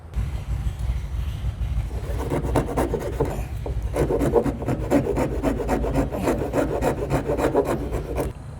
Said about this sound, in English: Now we're gonna come back with a file or a rasp and clean this up